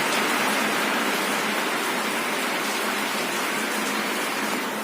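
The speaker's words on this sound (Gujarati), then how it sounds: "વરસાદ આવે છે જો, ઘણા ટાઈમ પછી વરસાદ આવે છે" Steady rain falls after a long dry spell of about ten to fifteen days, a dense, continuous hiss that stays even and loud throughout with no voices.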